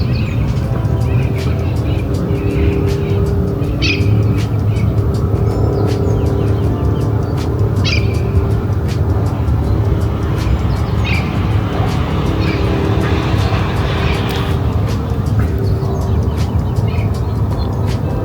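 Outdoor ambience on top of Mount Washington in Los Angeles: a steady, loud wash of wind and distant traffic rumble, with faint bird chirps scattered throughout.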